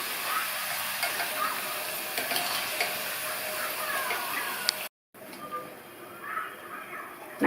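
Chopped snake gourd fries in hot oil while being stirred, a continuous bright sizzle with soft scraping, briefly cut off for a moment before the frying hiss resumes a little quieter.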